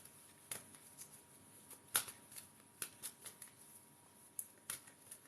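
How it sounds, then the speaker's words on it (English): Several soft, close shuffling bursts and snaps of moon oracle cards, coming in an irregular series with brief quiet gaps. "And then we'll shuffle the moon cards."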